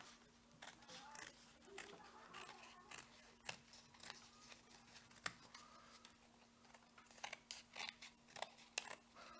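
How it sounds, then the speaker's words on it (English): Scissors snip through paper or cardboard for a bat-wing craft, a quiet series of irregular crisp cuts and rustles, each snip short and sharp, with faint background hum. "And cut around it with the scissors."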